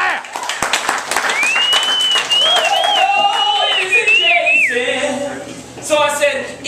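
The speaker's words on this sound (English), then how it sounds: "I want you to give him all a round of applause for a second" Audience applause and cheering for guitarist Jason at a live music show at The Livery in Saint Louis, clapping mixed with whoops and shouting voices, loud and close, with someone speaking over the crowd.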